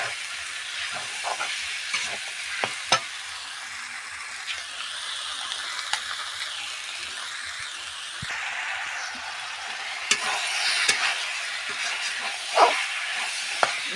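Banana flower, potato and fried fish head are sautéed with spices in a pan, a steady close hiss of frying with occasional faint scrapes and clicks of a spatula, continuous and without speech.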